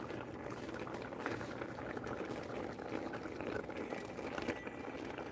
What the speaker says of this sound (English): all of this is just gonna steam